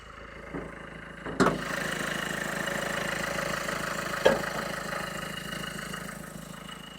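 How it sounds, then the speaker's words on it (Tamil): A 2013 Renault Pulse diesel engine idles nearby with the bonnet open, a steady low clattering rumble interrupted by a couple of sharp metallic knocks. "இன்ஜின் ஸ்டார்ட் பண்ணிட்டேன்"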